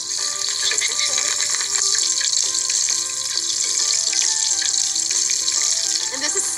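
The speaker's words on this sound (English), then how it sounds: "gently lay it away from you into the hot oil. That sound I like to hear. It's bubbling and it means that it's doing its job." A chicken drumstick fries in hot oil, giving a continuous close bubbling and sizzling hiss with scattered pops and crackles throughout.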